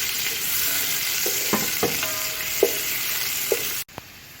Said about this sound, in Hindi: अब मैं इसमें प्याज ऐड करूँगी। अच्छी तरह से इसको फ्राई कर लेंगे।